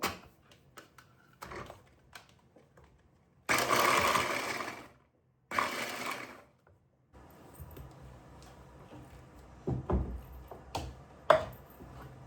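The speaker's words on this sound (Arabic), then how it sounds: "البصل انا ما بحب افرمها على ايدي فحطيتها بهالماكينه وحطيت معها الثوم" A kitchen food processor chopping onion and garlic, sounding in loud whirring bursts between quieter clatter and handling noises, with no speech.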